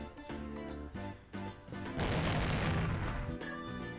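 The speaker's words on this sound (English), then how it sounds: "An explosion of pure white lime burst out of the window." Explosion effect in the Higurashi visual novel, a loud burst of lime blasting out of a window, rising sharply halfway through over background music and holding as a dense roar before fading.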